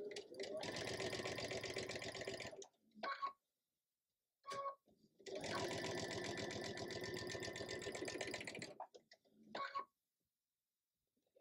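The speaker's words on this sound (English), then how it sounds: "sandwich the seam in the middle, put it in, and sew at a quarter inch" A sewing machine stitches a quarter-inch seam through two fabric layers placed right sides together for a quilt sampler block, running in two steady bursts of even mechanical chatter separated by a brief pause.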